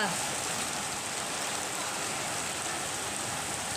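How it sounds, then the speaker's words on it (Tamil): Heavy rain pours down in Delhi in a dense, even hiss, steady and loud with no breaks for the whole stretch. "செம்ம மழை பயங்கரமாக பெஞ்சிட்டு இருக்குங்க"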